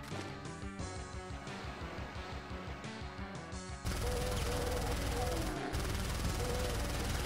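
Heavy shotgun blasts from the Doom mod Back to Saturn X, fired in quick succession with thick booming weight, dense and loud throughout, getting even fuller and harsher in the second half.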